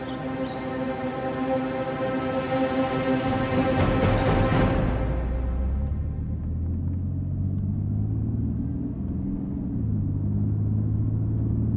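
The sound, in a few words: car being driven fast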